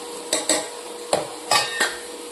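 A spoon clanks against a cooking pot while home-ground spices such as black pepper, cumin, coriander and turmeric are mixed in: about five sharp metallic knocks at an irregular pace, close and moderately loud, with no talking.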